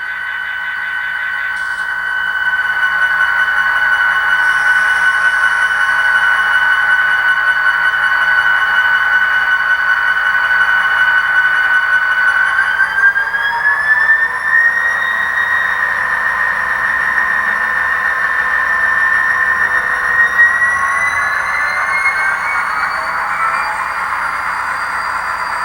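A Scaletrains Norfolk Southern SD40-2 model locomotive with a LokSound sound decoder runs by, giving a steady synthetic diesel hum and a high whine that climbs in pitch partway through. No one speaks.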